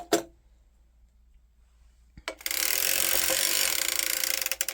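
Circular sock knitting machine cranked by hand: a single click, a short silence, then a continuous close whirring, ratcheting clatter that runs steadily to the end.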